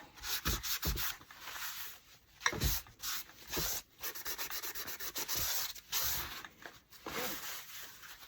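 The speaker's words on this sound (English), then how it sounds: "All right, I'm just going to wax it all." Clear wax is rubbed onto a wooden paper towel holder made from scraps, producing repeated scratchy back-and-forth strokes in bursts with short pauses between them, close and moderately loud.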